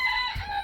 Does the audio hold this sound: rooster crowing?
yes